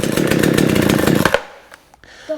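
A Baumr-Ag GCS6200 chainsaw that had not run in a while roars loudly for just over a second, then cuts out abruptly to near silence.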